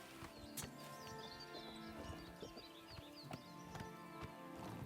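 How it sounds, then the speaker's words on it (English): Horse hooves clip-clopping in the video game Oblivion, a steady rhythm of hoof falls over a busy, layered game soundscape, moderately loud, with a faint whinny and no talk. "I forgot you can steal a horse too."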